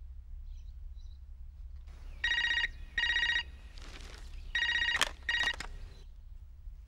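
A telephone ringing in a film scene: four short electronic ring bursts in two pairs, clear and fairly close against a quiet background, with a few faint clicks between.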